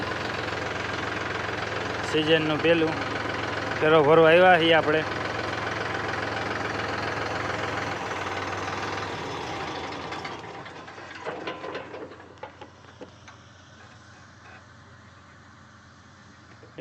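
A farm cutter machine runs with a steady engine drone while a tractor works nearby, someone talking over it before the noise drops away near the end.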